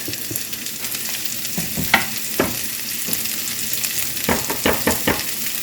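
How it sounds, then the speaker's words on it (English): Thawed frozen vegetables and chopped green onions sauté in a hot pan, with a constant sizzle broken by scraping stirs and light utensil taps. "we just want to saute these about 5 minutes until everything's nice and tender"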